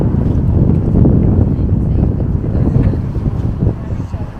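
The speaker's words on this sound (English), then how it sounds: "The wind feels great." Wind gusts along the waterfront in Charleston, South Carolina, buffeting the microphone with a loud, continuous low rumble that swells and eases for a few seconds, with no clear speech.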